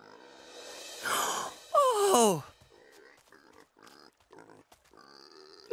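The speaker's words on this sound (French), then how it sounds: "ce petit cochon a une empreinte de Blue sur lui." A pig grunts and squeals loudly up close, followed by a few softer short snorts with brief pauses between them.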